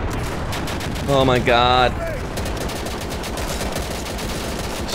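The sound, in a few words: gunfire in video game Easy Red 2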